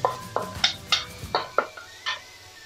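Malaysian vegetarian economy rice noodles are stir-fried in a pan, with about eight rhythmic metal clinks and scrapes of a spatula on the pan over a faint, low sizzle.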